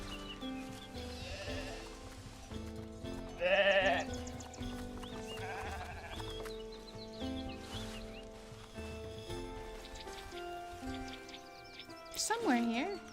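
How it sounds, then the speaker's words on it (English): Sheep in a video game bleat several times over steady background game music, the calls fairly close and distinct, with a sharper bleat near the end. "We have some sheep."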